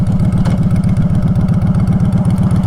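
A 2022 Honda Fury cruiser motorcycle idles close by. Its engine throbs in a steady, fast, deep pulse the whole time, loud and without talk.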